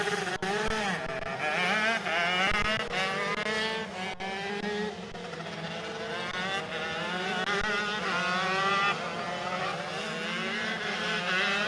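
Rok shifter karts racing at Sonoma, several high-pitched two-stroke engines screaming and rising through gears as they pass, a continuous loud overlapping whine with pitch sweeps from multiple karts.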